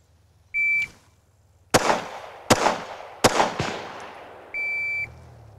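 At a handgun drill, an electronic shot timer beeps, then a fast string of sharp, loud pistol shots rings out with echoing tails, and a second beep ends the string.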